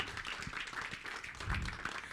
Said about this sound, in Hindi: Can we hear a huge round of applause for him, everyone?